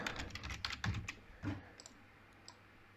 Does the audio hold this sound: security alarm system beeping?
no